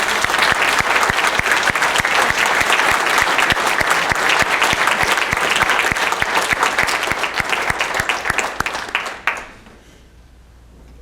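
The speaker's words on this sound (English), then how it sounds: "How about one more round of applause?" Applause from the audience at an Eagle Scout court of honor, with dense, steady clapping for about nine seconds that stops abruptly and leaves quiet room tone.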